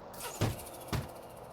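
A Bugatti in the Car Dealership 2 game gives two short, sharp turbo whooshes about half a second apart over a faint engine hum.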